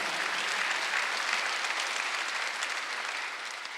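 Church congregation applauding at a Sunday service, a dense, steady wash of many hands clapping together, loud and sustained throughout, easing slightly toward the end with no voices over it.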